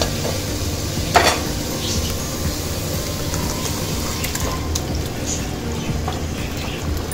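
Chicken pieces tipped into a pan of chilli masala and stirred for a Tamil-style chicken gravy, giving a steady low sizzle with scraping and a brief louder clatter near the start, no talking.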